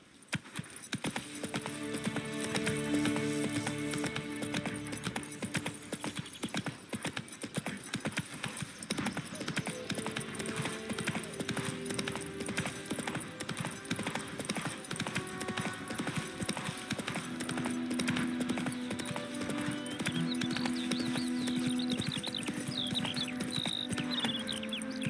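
Roach, a horse in The Witcher 3 video game, galloping with quick rhythmic clip-clop hoofbeats that run steadily through the whole stretch. Game music and ambience play faintly underneath.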